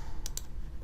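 Two quick keyboard key taps while typing an Excel IF formula, close and crisp, over a faint background hum.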